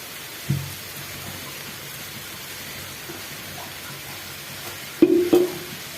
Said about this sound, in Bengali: আবার মিশিয়ে দিচ্ছি নেড়ে চেড়ে